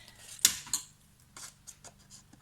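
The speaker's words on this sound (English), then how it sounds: "I will trim that off with my scissors" Scissors trimming the plastic-coated cover of a store-bought notebook: two sharp close snips followed by softer scattered cutting and rustling sounds.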